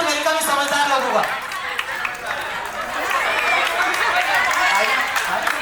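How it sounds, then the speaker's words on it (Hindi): Crowd of guests at a first birthday party clapping in welcome, a steady burst of applause mixed with chatter and cheerful voices throughout. "थोड़ा तालियों के साथ वेलकम समझदार लोगों का।"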